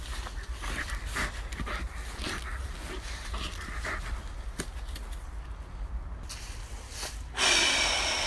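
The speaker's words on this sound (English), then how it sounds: "Calling my dog back in the woods." Out in the woods, a dog that has just been called back pants and snorts in quick, close breaths, with a brief sharper burst near the end.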